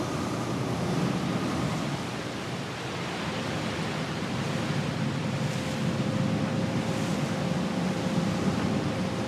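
Sea waves wash around a boat off the coast of Brittany in a dense, continuous roar of surf and wind, steady and fairly loud with no voices.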